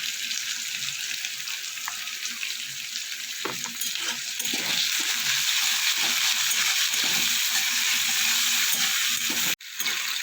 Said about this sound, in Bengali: আলুটা আমি একটু লাল করে ভেজে নেব সামান্য একটু লবণ আর একটু হলুদ